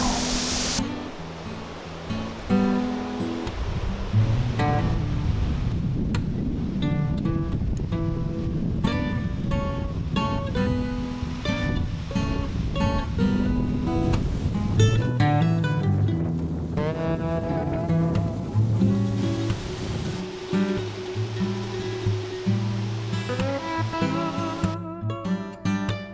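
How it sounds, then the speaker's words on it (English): Strong wind roars outdoors in a deer-hunting setting, a loud continuous rush buffeting the microphone with gusty surges throughout. "Super windy out here."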